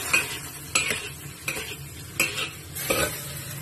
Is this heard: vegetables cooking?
yes